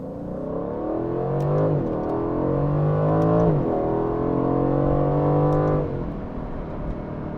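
An Aston Martin sports car engine revs up and climbs through the gears on a highway in several rising surges, loud and close, with brief dips between shifts.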